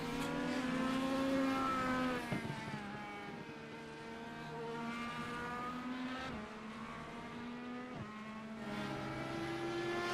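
Race cars on a track at Gulf Coast ICS, engines droning loudly and steadily with pitch shifting as they upshift and downshift, several cars heard continuously close by.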